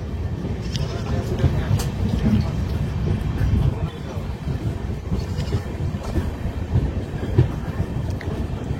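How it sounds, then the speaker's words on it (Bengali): An Amrit Bharat Express passenger train runs on rails as it approaches a junction, heard from on board as a steady low rumble with rhythmic clatter throughout. "খানা জংশনে অ্যাপ্রোচ করছে বন্ধুরা এখন ট্রেনটি"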